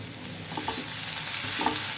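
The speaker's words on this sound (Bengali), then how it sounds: "বন্ধুরা, এবার ঢাকনা খুলে একটু নাড়া দিয়ে নিব।" Gourd peel, potato, carrot, beans and small prawns are stirred in a pan, with soft utensil scrapes over a low, steady sizzle for about two seconds and no talking.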